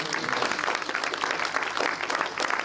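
A church congregation applauds Jesus during a worship service, with steady, dense clapping from a large crowd that fills the room and continues without a break.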